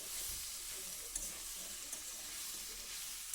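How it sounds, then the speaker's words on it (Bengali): Masoor dal with spices and vegetables is stirred in a pan, giving a steady bright sizzle with soft scraping and a few light taps from the spoon, no voices. "সব কিছুর সাথে ভালো করে ডালটাকে আর একবার নাড়াচাড়া করে দিলাম"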